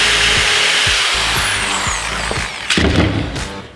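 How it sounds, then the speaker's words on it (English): A power drill whines loudly at full speed, then the pitch shifts and grows rougher as the bit bites into wood near the end. "I'm gonna go full speed and drill into this piece."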